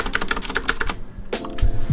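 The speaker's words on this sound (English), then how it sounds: "We have a Thermatake mechanical keyboard." A Thermaltake mechanical keyboard clacks under a quick run of about eight crisp keystrokes, then a brief pause and a couple more heavier key hits, close and clear.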